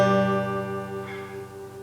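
A guitar chord strummed once while learning a song, ringing out rich and sustained on its own and slowly decaying over a couple of seconds.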